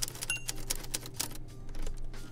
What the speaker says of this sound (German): Was Tom Hanks an Schreibmaschinen fasziniert?